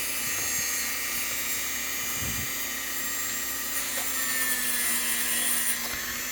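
A rotary tool with a plastic brush works the plastic wheels of an HO scale Mehano wrecking crane model, giving a steady close high whine that holds throughout with no talking.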